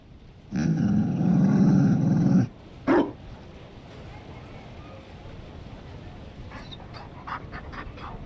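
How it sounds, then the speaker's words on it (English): A Mabari war dog in Dragon Age growls in a loud, rough, sustained snarl lasting about two seconds, followed by a single short bark, then quiet ambience with faint clicks. "You found a dog."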